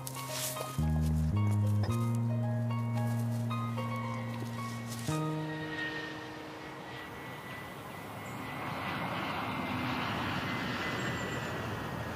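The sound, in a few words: airplane passing near airport runway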